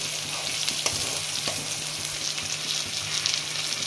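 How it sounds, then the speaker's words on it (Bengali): Pale potato curry simmering in a pan gives a steady, close sizzle and bubbling that runs without a break, with a few soft clicks of a spatula. No one speaks over it. "একটু জল দিচ্ছি"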